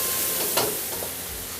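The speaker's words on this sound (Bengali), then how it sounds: "এবারে যাচ্ছে সাদা মরিচের গুঁড়ো আন্দাজ মতো দিয়ে নেড়ে খুব ভালো করে মিশিয়ে নেওয়া হচ্ছে" Sauce with white pepper and chicken stock being stirred in a pan: steady sizzle and hiss with one louder scrape of the spoon midway, close and alone without talk.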